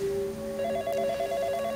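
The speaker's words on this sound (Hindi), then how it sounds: "इसी बीच उसका वो लैंडलाइन फोन बजा जो शायद ही कभी बजता था।" A landline telephone rings in sustained electronic tones that shift slightly partway through, steady and fairly loud over a faint background, with no one talking.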